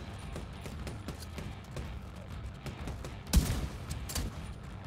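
Gunfire in the video game The Division 2 in an underground parking garage: quiet scattered shots with one sharper, louder burst near the end, under low background game noise.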